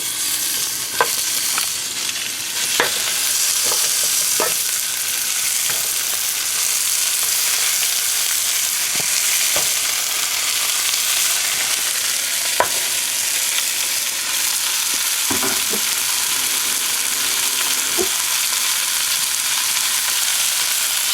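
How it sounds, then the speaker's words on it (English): Garlic and onions fry in olive oil for an Italian sauce, giving a continuous close sizzle with scattered crackles and pops. No voices are heard. "Yeah, already you can smell the garlic and the onions. I just want to get a nice brown on this."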